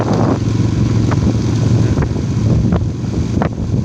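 Gusty wind on a cold, dry day buffets the microphone with a loud, rough, continuous roar, broken by a few short sharp bursts, with no voices.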